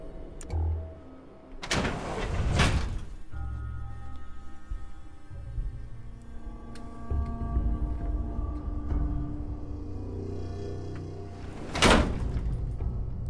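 A door opens in Fallout 4, marked by two loud mechanical bursts several seconds apart over a low rumbling ambient drone, with no talking.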